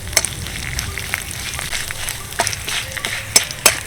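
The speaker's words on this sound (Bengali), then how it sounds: "ফোড়নটাকে হালকা ভেজে নিয়েছি" Bay leaves, dried chillies and panch phoron tempering in hot oil for raw mango pickle, a close crackling sizzle punctuated by sharp pops and spatters, with no talk.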